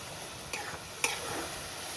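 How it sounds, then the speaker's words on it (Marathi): Masala being sautéed in oil and stirred in a pan for a chole masala dish, giving a soft continuous sizzle broken by two sharp scrapes of the spoon against the pan. "आणि चांगले हे मसाला वगैरे परतून घ्यायचं."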